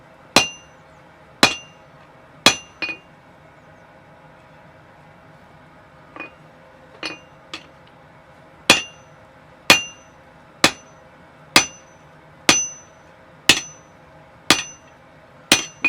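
Hammer blows on hot steel v-bit tongs over an anvil, sharp ringing metallic strikes at about one per second, with a short pause and a few lighter taps midway, then steady hits again, close and clear.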